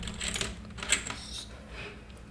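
Clicky keystrokes from a wired keyboard connected to a Redmi Note 14 phone, a quick irregular run of taps at close range with no voices.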